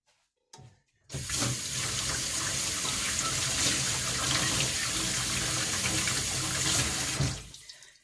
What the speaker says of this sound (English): Just let me wash them off first.